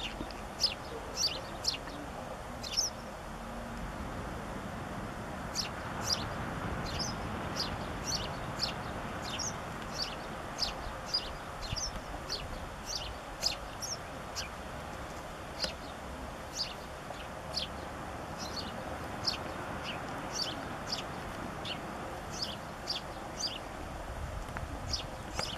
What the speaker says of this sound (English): Little sparrow.